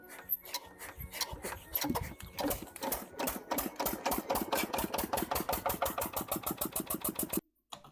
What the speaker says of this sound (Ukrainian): Хто не знав, це в нього 12-сильний мотор